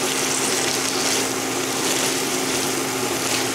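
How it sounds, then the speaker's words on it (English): Cabbage and broccoli cook in a pot with a dense, even hiss and bubbling that holds steady throughout, with no distinct stirring strokes standing out. "let me stir this up a little bit."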